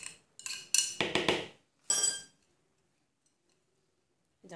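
Cake batter with grated zucchini being mixed in a bowl: a burst of quick scraping, clinking strokes, a pause, one more stroke, then near silence.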